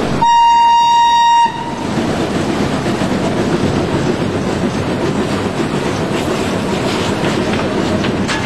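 Steam locomotive 625 100 running on a railway line in Franciacorta, opening with a long steady whistle blast of about a second and a half, then a loud, continuous rumble and clatter of the train rolling along, with no talk.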